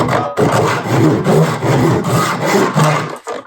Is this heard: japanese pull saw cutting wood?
yes